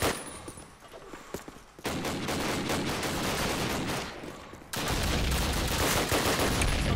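Dense bursts of rapid gunfire from a Call of Duty United Offensive match crackle loudly and almost continuously, with sustained automatic volleys, a brief lull midway and then an even heavier stretch of shooting.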